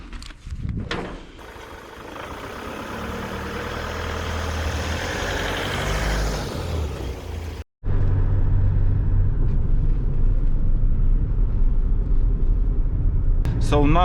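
A 2021 Mercedes GLB, rebuilt from salvage, drives along with steady road and engine rumble inside the cabin, broken by a brief dropout before the low drone returns and continues to the end.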